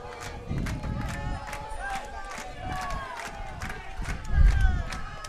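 Soccer fans cheer throughout a masters 45+ match between the USA and Argentina, a broad crowd roar with rising and falling swells and a louder surge near the end, while commentators talk over it.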